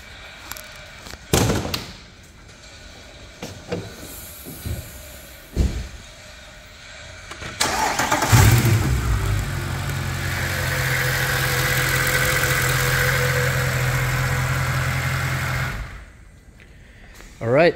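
A 2010 Mercedes E63 AMG with 61k miles is cranked, and its engine catches with a loud, sharp roar before settling into a steady, deep idle that runs for several seconds, heard up close after a few clicks and thumps.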